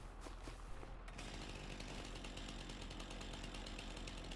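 A chainsaw fells a tree in Farming Simulator 25, giving a steady, loud, buzzing drone that runs unbroken through the whole stretch with no voices.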